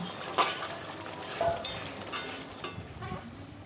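Spatula stirring fish in mustard oil in a pan for pakal fish curry, scraping and clinking steadily over a continuous sizzle of hot oil, close and fairly loud, no voices.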